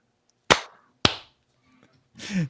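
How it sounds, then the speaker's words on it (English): A couple of sharp, close hand claps spaced about half a second apart, followed by a short burst of voice. "Let's clap it up in 3, 2, 1"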